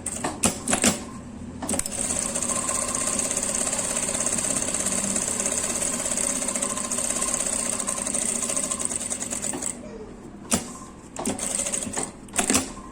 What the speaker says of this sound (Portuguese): Retrocesso aqui e eu contorno a costura.